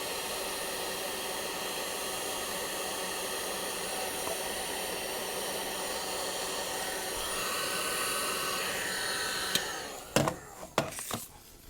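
A heat gun blows with a steady hiss, warming a dust cap from a Husqvarna garden tractor mower's steering, then a few sharp clicks and taps of handling follow as the blowing stops.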